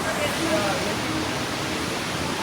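Steady, dense rush of a flowing mountain stream in Uttarkashi fills the clip, a continuous broad hiss like water tumbling over rocks, close and even throughout.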